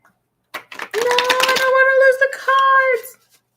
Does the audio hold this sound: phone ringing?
no